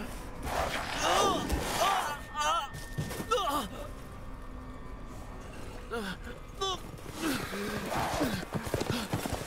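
Horse hooves clip-clop in the video game Resident Evil Village, sounding in short bursts through the stretch among other game sounds, with voices heard at times.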